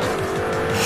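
Tires squeal steadily as a car drifts in the racing video game Forza Horizon, a loud, continuous screech with engine roar, alone and close.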